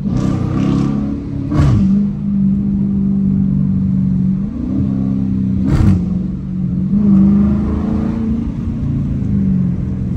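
A Dodge Challenger R/T engine pulls hard while driving, rising in pitch through repeated revving runs broken by sharp shift breaks, loud and close from inside the cabin with no talking.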